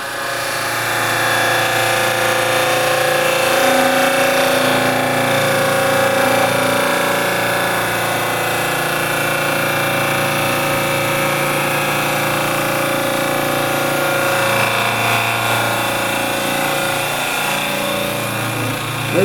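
Wood lathe spinning a resin bowl while carbide chisels cut it, a steady loud motor hum with a continuous scraping texture across the whole span and no speech.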